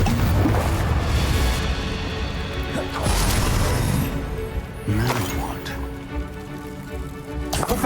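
Confringo explosive spell cast in Hogwarts Legacy: loud crashing blasts and rumbling impacts recur over several seconds, with sharp hits near the three- and five-second marks, amid continuous busy game noise and a voice.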